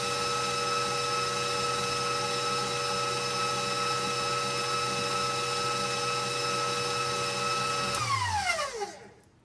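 An electric mixer whirs continuously while blending sugar into winter bee food, a steady loud motor whine that winds down in falling pitch as it shuts off at the end, no talk.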